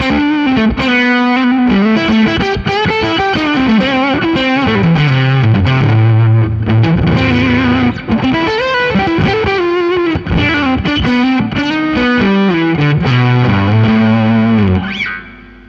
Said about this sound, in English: Surprisingly, sounds really good with a bit of drive on it.